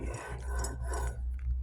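Greased bearing part from a Mack power divider rebuild turned by hand, with old packing grease loosening, giving a close, continuous gritty rasping and rubbing for a moment, no talk.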